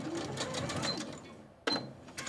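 A sewing machine basting along the inner edge of a garment facing runs in a steady close whir, pauses briefly, then starts again abruptly.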